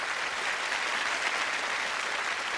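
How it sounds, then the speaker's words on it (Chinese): Studio audience applauding two challengers on a television challenge show, a steady, even wash of clapping at moderate distance that holds level for the whole stretch, with no talk. "掌声送给2位挑战者"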